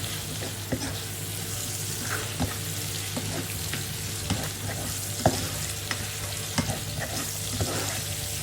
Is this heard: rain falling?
no